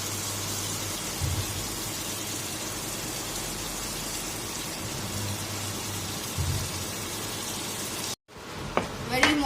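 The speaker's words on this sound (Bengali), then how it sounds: "মশলাটা দিয়ে ঠিক এরকম করে নাড়িয়ে চাড়িয়ে কষানো হবে" Spice mix stirred and sautéed with bottle gourd in a pan, a steady close sizzle running throughout, broken by a brief stop near the end and then a few stirring clatters.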